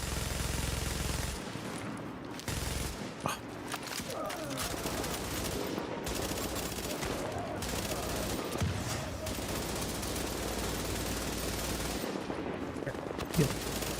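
Sniper rifle fire in the video game The Division during the Outbreak global event, rapid bursts of gunfire repeating over continuous loud, dense game noise.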